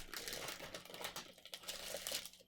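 Crinkling and rustling of a plastic bag being handled and folded over for a batch of homemade ice cream, close and fairly quiet, with irregular crackles and soft handling noises.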